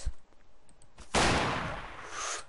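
A Raging Bull revolver fires in Garry's Mod, a single loud, sharp blast with a long, bright decaying tail, preceded by a few faint clicks and thuds.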